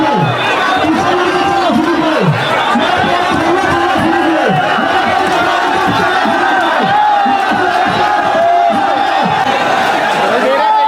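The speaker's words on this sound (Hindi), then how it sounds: "बहुत ही भीड़, बहुत गर्मी है, नारे लग रहे हैं बहुत ज़्यादा" A large, dense protest crowd at Jantar Mantar chants slogans in rhythmic repeated bursts, many voices shouting together close by over a constant background of hubbub and chatter.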